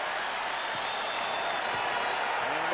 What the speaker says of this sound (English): And the Bulls now hearing it from the crowd. They're on their feet at the United Center.